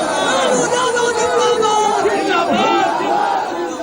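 A large crowd at Lalu Prasad Yadav's election rally in Arrah cheers and shouts in a dense, sustained roar, loud and continuous, with voices rising in chant-like swells.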